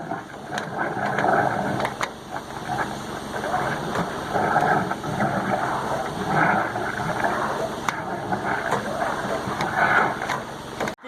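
A continuous mechanical churning and whirring with rhythmic pulsing surges from a hydro jetter running in an underground drain pipe, heard muffled from above ground with occasional clicks.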